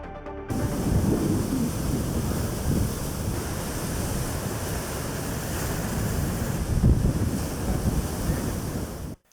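Rough sea at Shankhumukham beach, where heavy waves crash in a continuous loud roar while strong wind pounds the microphone, with surges of surf and no speech.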